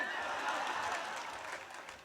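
An audience at an Arjun Alhad comedy show in Sehore breaks into applause: a soft, continuous wash of many hands clapping, heard from a distance and gradually fading.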